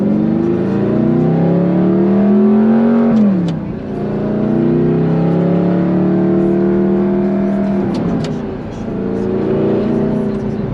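A 2009 Audi R8 4.2 V8 with gated six-speed manual and Fabspeed exhaust revs and pulls hard with a deep, throaty exhaust, pitch climbing in long sweeps, dipping at each gear change before rising again.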